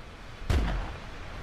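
A single sharp .405 rifle shot fires in the hunting game theHunter, a loud close boom with a short rumbling tail and nothing else around it.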